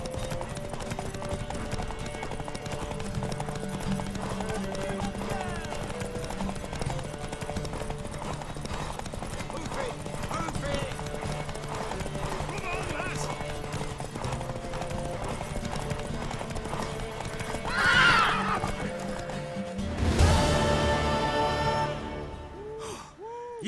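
Horse hooves clip-clop steadily through most of the stretch in The Witcher 3, with a whinny near the end.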